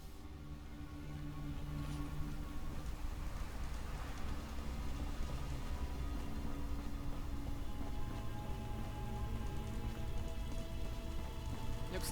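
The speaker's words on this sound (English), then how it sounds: "Looks like it's gonna rain soon." Steady rain pours down in Fallout: London, a dense, even hiss of drops on surfaces that stays loud and unbroken throughout, with no voices over it.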